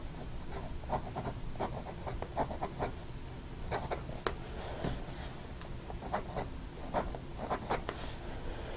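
A PENBBS 323 fountain pen nib scratches across paper in quiet close strokes, faint rhythmic scritching against a soft background hiss with no voices.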